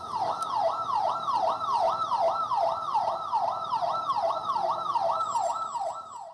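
An ambulance siren wails steadily in a fast repeating rise-and-fall pattern, loud and continuous, with faint traffic rumble underneath.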